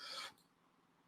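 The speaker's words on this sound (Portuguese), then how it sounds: "Desculpa aí as tossidas, tá, gente?" A single short cough at the very end after a brief faint breath, abrupt and close, with near silence in between.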